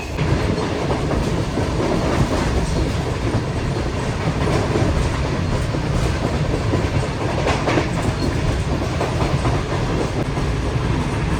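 The Shah Hussain Express, a passenger train headed toward Khanewal, runs at speed with a dense, steady roar of wheels and carriage noise and faint rhythmic clatter, heard from inside the train without pause.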